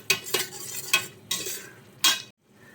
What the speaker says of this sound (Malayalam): നന്നായിട്ടൊന്ന് മിക്സ് ചെയ്ത് കൊടുക്കാം